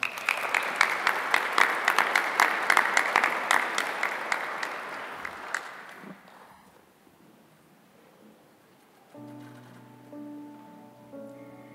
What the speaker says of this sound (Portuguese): Podemos aplaudir a palavra.